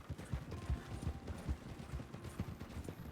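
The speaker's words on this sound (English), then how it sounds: "Easy there, horses." Horses pulling a wagon in a video game, with heavy low hoof clip-clops repeating at a steady trotting rhythm, close and continuous under a rumbling wagon bed.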